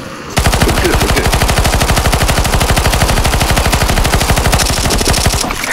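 Sustained automatic gunfire in the CS2 Zombie Escape game, a loud, fast, evenly spaced burst of shots lasting several seconds without pause.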